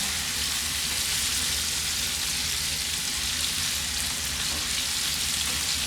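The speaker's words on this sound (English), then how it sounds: "We're just gonna baste the steak." Ribeye steak sizzles steadily in a hot pan as it is basted with a food brush, a constant, fairly loud crackling hiss with no talk over it.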